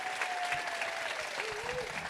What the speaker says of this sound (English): Let's give one more applause for all 3 judges.